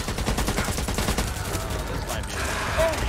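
Rapid, dense gunfire from the zombie shooter Back 4 Blood, with bursts of automatic fire crackling continuously and loudly for the whole span, a short whine rising near the end.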